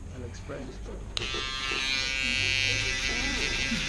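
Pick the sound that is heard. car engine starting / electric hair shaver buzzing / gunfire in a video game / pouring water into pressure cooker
electric hair shaver buzzing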